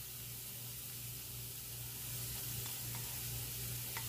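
Shrimp juice from the shrimp heads hits sizzling pancit bihon in a pan, producing a steady loud hiss and crackle of frying up close with no one talking.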